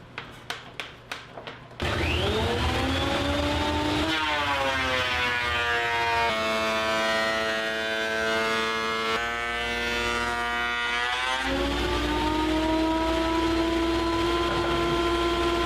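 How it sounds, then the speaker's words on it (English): A thickness planer flattening a large wood slab, several short taps first, then a loud sustained roar whose pitch sags and shifts as the board feeds through. "So there we are with one pass on the planer"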